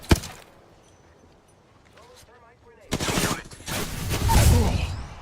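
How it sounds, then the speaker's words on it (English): Video game gunfire rings out in a battle royale match, a sharp shot at the start, then after a quiet stretch a loud sustained burst of rapid fire and impacts, with a player's voice talking briefly. "Hey, I'm getting shot."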